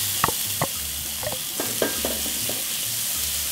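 Garlic and onion fry in oil for a Peruvian aderezo, a steady close hiss of sizzling broken by a few sharp utensil scrapes and taps against the pan.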